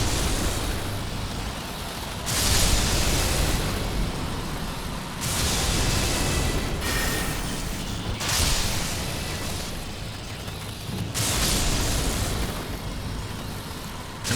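Lightning spell setting off a chain reaction of explosions among grouped enemies in the video game Elden Ring: loud, roaring noise bursts that surge in a repeated rhythm every few seconds, with no break between them.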